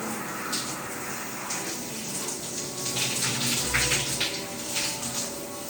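Shower water runs steadily while hair dye is rinsed out, a continuous rushing splash with slight surges in the middle and no talking.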